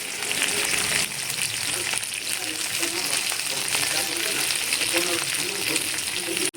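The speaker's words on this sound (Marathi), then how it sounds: "आता ह्याच्या कढईमध्ये मी तेल टाकलं आहे आणि त्याच्यामध्ये मी भेंडी टाकते" Sliced okra fries in hot oil in a kadai, giving a loud, dense, continuous crackling sizzle close by that cuts off abruptly at the end.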